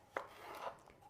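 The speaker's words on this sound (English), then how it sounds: "And just cut the celery into thin strips." Knife cutting celery into thin strips on a board, a single faint, crisp chop followed by soft rubbing, quiet and close.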